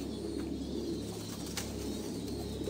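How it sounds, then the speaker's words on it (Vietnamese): Thai Titan meat pigeons on a farm of several hundred pairs coo over a dense, steady murmur of the flock, close by and continuous with no talking. "Thì cũng là về dòng chim bồ câu titan siêu thịt của Thái luôn."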